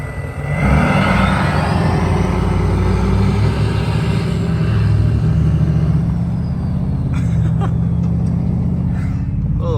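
A second-generation Nissan Titan diesel pickup runs loud and close for the whole stretch, a heavy, steady low rumble with a slight rise in pitch near the start, and other traffic or engine noise sits in behind it.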